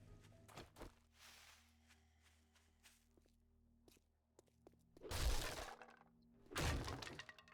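Glass shatters twice in the video game 7 Days to Die, two loud, crashing bursts a second or so apart, following a stretch of quiet footsteps and small knocks.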